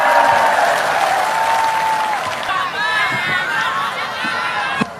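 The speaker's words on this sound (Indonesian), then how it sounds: "Terima kasih semuanya, tepuk tangan dulu buat semuanya." Applause from a crowd at an Indonesian PSI political party event, sustained and fairly loud, with cheering voices and chatter mixed in throughout.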